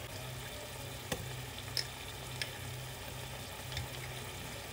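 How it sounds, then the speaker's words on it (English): Minced garlic frying in melted butter over medium heat, a steady quiet sizzle and crackle with a few faint clinks of a utensil stirring the pan, no talking. "After your butter is melted, add 2 tablespoons of minced garlic."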